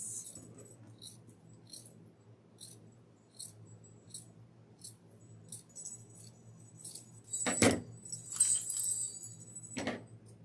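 Scissors cut through craft material for a handmade gingerbread man Christmas tree topper, giving two short, crisp snips close by over a quiet background with faint small clicks.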